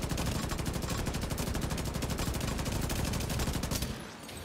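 Rapid, continuous automatic gunfire in the video game The Division 2 rattles loudly for several seconds, then cuts off abruptly, leaving a low background hum.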